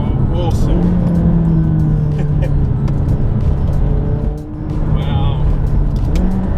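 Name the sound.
McLaren 570S sports car engine accelerating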